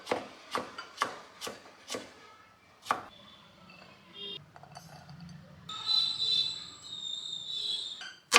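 A knife chops raw mango into small pieces on a board for a salad, six crisp evenly spaced cuts close up, then quieter rubbing and clinking as the pieces are gathered.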